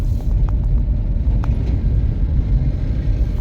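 A car drives over a damaged, patched road, giving a steady, close, low rumble that continues without a break and has no voices over it.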